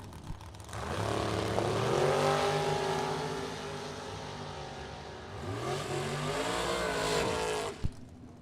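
Bracket racing dragsters roar down a drag strip at the Firecracker Bracket Nationals, with one long engine pass rising and fading followed by a second loud run, both heard from trackside.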